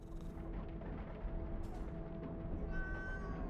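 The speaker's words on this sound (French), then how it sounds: "Ah, le chat." A cat meows once or twice in the dark fantasy video game Moonscars. The call is faint and sits under a low rumbling game ambience and a thin musical drone.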